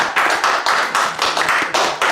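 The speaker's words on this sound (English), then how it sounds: "I'm going to clap for you" A pastor claps his hands alone, about eight sharp, close claps in a steady, even rhythm.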